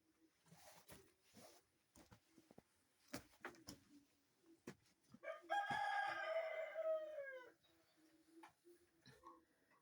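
A Kienyeji rooster crows once inside a poultry house, a loud drawn-out call amid scattered soft clucks and clicks from the hens.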